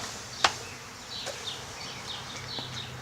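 Honey bees buzz around a newly installed backyard beehive, thin, faint hums drifting past close by over a quiet background, with one sharp tap early on.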